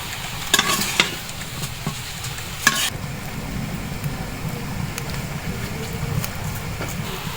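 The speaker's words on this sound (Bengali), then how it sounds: "তো আমি নেড়ে ছেড়ে ঢাকা দিয়ে দিব" Ingredients for a village-style bhorta frying and being stirred in a pan, a loud continuous sizzle with a few sharp spatula scrapes near the start, close and steady throughout.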